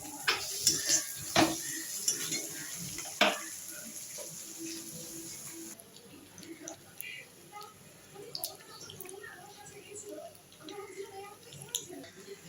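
Food being stirred and sautéed in a pan, with a utensil scraping and clinking against the metal in irregular bursts, louder at first and softer later, over a faint sizzle.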